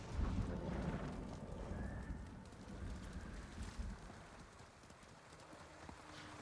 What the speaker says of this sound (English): Where is my horse?